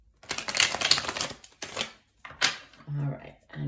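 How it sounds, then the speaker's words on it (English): A tarot card deck is shuffled in quick riffling bursts, close and crisp, with short pauses between and a voice talking briefly near the end. "One last shuffle."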